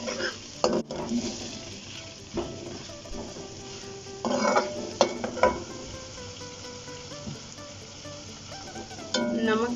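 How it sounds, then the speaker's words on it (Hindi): Chicken pieces being lightly fried in a pan for chicken Manchurian, a soft sizzle under repeated clinks and scrapes of a spoon against the metal pan, with stirring bursts through the clip. "इसको हल्का सा फ्राई करूंगी मैं।"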